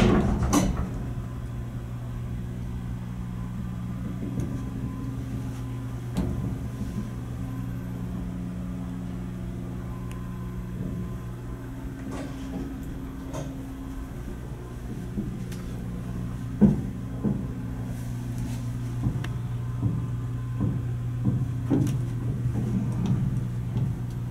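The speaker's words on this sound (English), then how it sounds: "Now let's listen to it going down." A Downey-Goodlein traction elevator in an old building runs steadily, a low continuous machine hum with faint ticks and clicks scattered through it, heard from close by with no talking.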